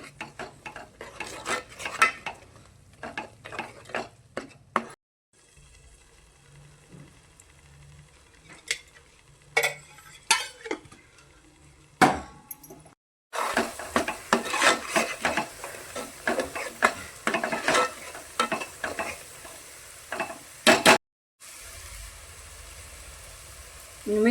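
Homemade masala with turmeric and salt frying in oil in a pan for a Malvani fish curry is stirred in bursts of scraping and clinking spoon strokes over a soft sizzle, with brief pauses between the rounds of stirring.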